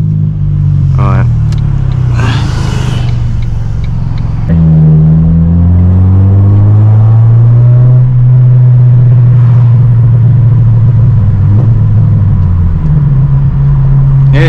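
Ford Focus Mk1 car driving on a daytime road, a loud steady engine drone rising and falling with gear changes, heard close from inside the cabin.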